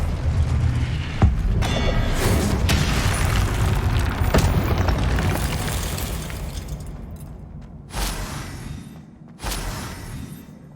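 Confringo spell blasts in Hogwarts Legacy, a string of heavy booming explosions with crackling debris, one big hit early and two sharp bursts near the end over continuous rumbling combat noise.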